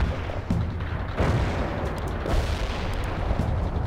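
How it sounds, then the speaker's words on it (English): Artillery shells exploding in the wartime strategy game World in Conflict, a dense rumbling barrage with several heavy booms around half a second, one and a quarter seconds and two and a third seconds over continuous low battle noise. "Coordinates locked down, shells on the way."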